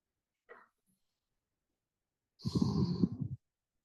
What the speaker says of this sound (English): Take a breath or two.